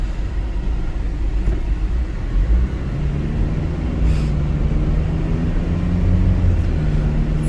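A 2013 Ford Endeavour 4x4 automatic SUV driving fast down narrow lanes, heard as a steady low rumble of engine and road noise from inside the cabin, continuous and unbroken, with no one speaking.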